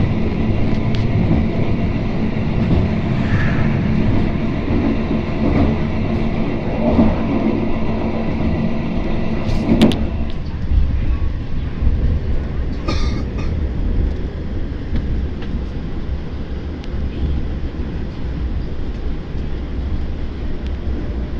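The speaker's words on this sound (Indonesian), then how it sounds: "Kereta api Argo Wilis berhenti di stasiun" Argo Wilis passenger train pulling into a station, a steady loud rolling rumble with faint clicks of wheels over rail joints and a brief squeal partway through, without voices.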